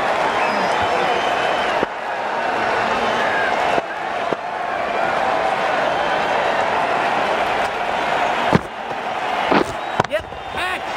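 Sustained stadium crowd roar and applause in a Cricket 19 England vs Pakistan World Cup 2019 match, loud and continuous, with a commentator talking over it and a few sharp knocks near the end.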